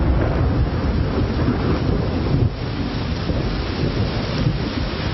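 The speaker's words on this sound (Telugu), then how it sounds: "బాగా వర్షం కురుస్తోంది." Heavy rain pours steadily with low thunder rumbling through, a dense continuous roar with no voices over it.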